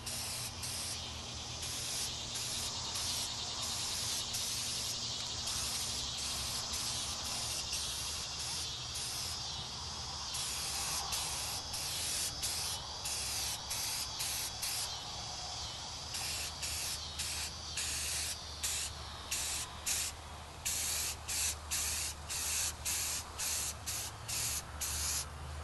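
An aerosol can spray-paints a paintball gun in camouflage, bursts of close, loud hissing spray, long at first and then repeated in short rhythmic pulses with brief gaps.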